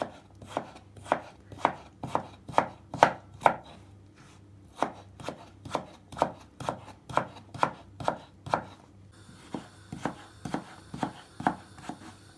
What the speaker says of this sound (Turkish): kızartmalık doğrayacağım